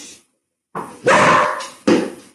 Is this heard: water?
no